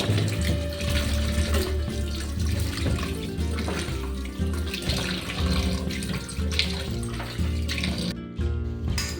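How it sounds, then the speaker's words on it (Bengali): Water runs steadily from a tap while pieces of mutton are washed for Bengali mutton kosha. The splashing is continuous and fairly close, and it cuts off briefly near the end. No one talks. "এবার এটাকে ভালো করে বেছে আমি এবার ধুয়ে নিচ্ছি মাংসটা"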